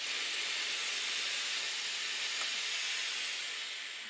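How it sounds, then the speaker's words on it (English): A steam iron pressed onto waistcoat fabric to bond fusing gives off a steady, broad hiss of steam that holds for several seconds and fades slightly at the end, close and alone. "Put a bit of steam there."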